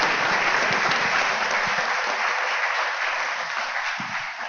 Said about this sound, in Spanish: quisiera pedir un aplauso bien fuerte por el Día de la Cultura Afroperuana